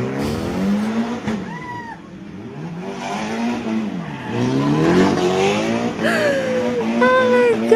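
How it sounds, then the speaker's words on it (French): A car drifting in front of police, its tires squealing in rising and falling wails over a revving engine; voices talk over it throughout. "Mais non, tu vas pas te mettre à drifter devant les flics là quand même."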